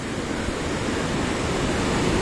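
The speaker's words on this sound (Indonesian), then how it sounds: "ketika melihat ombak yang menggulung seperti ini" Ocean waves roll and break onto the shore of the southern sea with steady, loud broadband surf wash filling the whole stretch, no voices over it.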